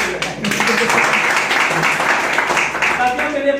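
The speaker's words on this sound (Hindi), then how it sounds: "उन लीडरों के लिए ताली बजाएं।" An audience claps for leaders at an RCM digital marketing presentation: a dense, steady wash of applause runs through the whole moment, with voices mixed in.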